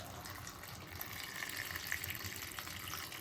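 Water runs faintly into a pot of washed potatoes and dried shrimp, a soft steady pouring gush at low level without speech.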